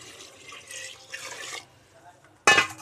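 Water poured into mutton curry cooking in a pressure cooker makes a short, loud splashing gush near the end, after a stretch of people talking.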